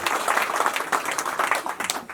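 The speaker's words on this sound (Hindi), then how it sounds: "जोरदार तालियां द्वारा हम गायिका जी को धन्यवाद दे रहे हैं।" Audience at a Tilak night event breaks into loud, sustained applause to thank the singer, a dense wash of clapping filling the whole stretch without pause.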